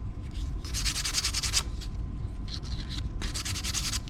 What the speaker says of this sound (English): feels like 320. It's pretty fine sandpaper